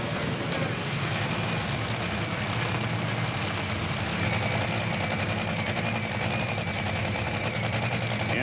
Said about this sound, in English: Engines roaring on the line for Brandon Bernstein and Del Worsham.